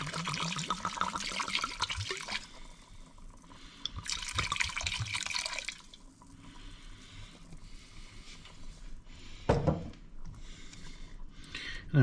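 Wine poured into a pot of ragu napoletano with beef shank and pork ribs, a close liquid splashing and gurgling in two bursts with quieter kitchen noise between and a brief clatter near the end.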